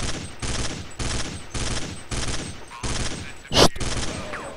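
Rapid bursts of gunfire from a video game shooter, about six dense volleys separated by short gaps, loud and close, with one sharper blast near the end.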